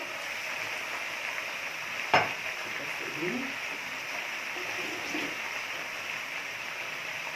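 Taro pieces sizzle steadily in hot oil in a pot, a soft continuous fry with a brief clatter as they are stirred; no one talks.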